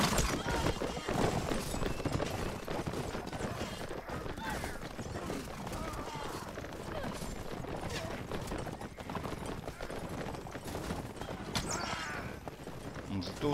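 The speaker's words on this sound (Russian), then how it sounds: "Очень быстрые лошади, очень поворотливые такие." Fast, agile horses galloping in the video game Mount & Blade: Warband, with a busy stream of hoofbeats and battle clatter running throughout. Someone talks over it.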